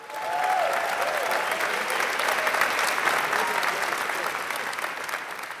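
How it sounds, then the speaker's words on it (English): Sustained, even applause from a theater audience at the Castro Theater during a 2012 LGBT Pride celebration, a steady wash of many hands clapping with faint crowd noise and a brief voice early on. "let's give a round of applause to the staff here at the Castro Theater for their great help tonight"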